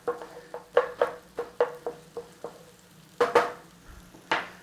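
Onion and garlic sautéing in a pan, a spoon scraping and tapping in a quick, fairly regular series of strokes over a low, steady sizzle, with a few louder strokes near the end.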